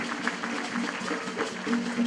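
Applause from an audience honouring a city council's legislative work in the council chamber: a steady, moderately loud wash of clapping continues throughout, with a faint voice in the background.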